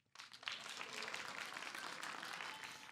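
An audience of children at the Kiwanis Little Bee spelling competition final bursts into applause and cheering, a sudden swell of clapping that stays loud and even to the end.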